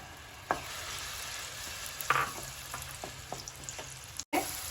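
Onion puree fries in hot oil in a pan for matar paneer. A continuous close sizzle is broken by a few sharp spatters and stirring scrapes.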